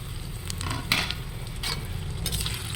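Nigella seeds, chopped onion and green chilli fry in hot oil in a pan, a steady crackling sizzle with a few scraping stirs of a spatula and occasional metallic clinks.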